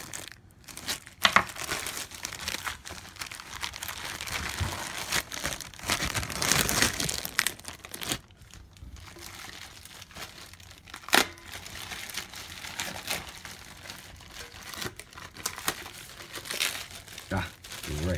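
Plastic packaging crinkles, tears and crumples as it is peeled off the metal hardware of an On Stage MSA6000 mic stand platform table, in bursts of rustling that come and go up close.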